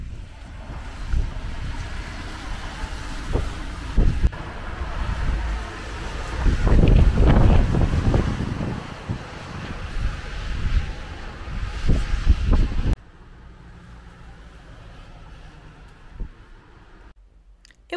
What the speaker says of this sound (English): Check out the wind. Can you hear that?